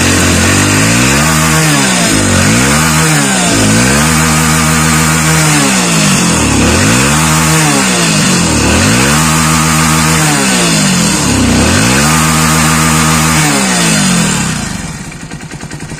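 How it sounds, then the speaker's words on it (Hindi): A Hero BS6 motorcycle engine, just started after a starting problem, revs repeatedly in a steady rhythm of throttle blips, loud and close, then settles down near the end. "बाइक स्टार्ट हो गई है प्रॉपर"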